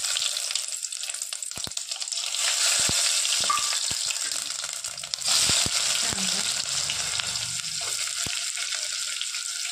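Whole spices crackle and sizzle in hot oil for a vegetable pulao, with a steady broadband frying hiss, occasional sharp pops and stirring clatter, growing louder midway through.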